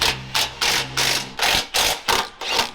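A hand ratchet tightens aftermarket bumper bolts on a Chevy truck: about eight quick, close bursts of clicking in an even back-and-forth rhythm, with nothing else heard.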